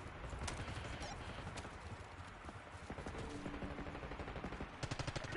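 Archangel killstreak firing in Call of Duty Black Ops 6, heard as dense, rapid bursts of gunfire and sharp impacts rattling on for several seconds, with the volume swelling toward the end.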